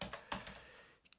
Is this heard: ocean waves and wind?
no